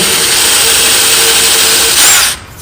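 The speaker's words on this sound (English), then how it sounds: "I can take a drill and I put it in at an angle" A power drill whirs steadily at high speed, loud and close, boring at an angle about 1/4 inch deep into wood for a woodturned scoop before winding down and stopping.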